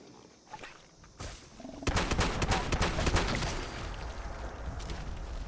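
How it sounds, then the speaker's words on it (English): In the Fallout 76 video game, a loud weapon fires after a quiet start, letting off a dense burst of rapid shots and booms that trails into a lingering rumble. "This weapon is quite loud."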